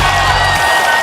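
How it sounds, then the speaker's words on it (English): A crowd at a health-professional event keeps up steady, dense applause through the short moment, loud and close. "I want to offer a round of applause to those of you who joined the exercise"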